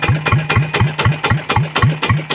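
A Yanmar 120 engine fitted to a boat frame runs up with a steady, rapid chugging thump, about four beats a second, close and loud with no voices.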